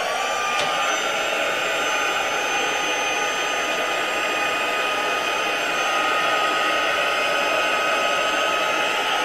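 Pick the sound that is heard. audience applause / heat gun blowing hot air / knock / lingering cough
heat gun blowing hot air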